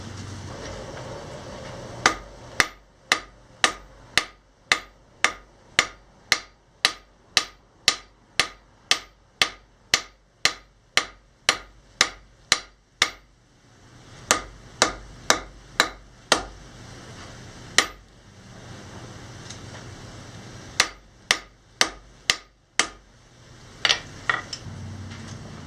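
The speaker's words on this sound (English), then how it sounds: "This is the first blade I'm forging." A hammer forging a Damascus steel knife blade: loud, sharp metallic strikes in a fast, steady rhythm, two long runs of blows broken by a short pause, then a few more scattered hits near the end.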